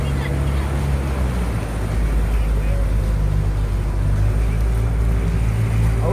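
Motorboat riding on a lake, its engine a loud, steady low drone with constant rushing water and wind noise that fills the whole stretch.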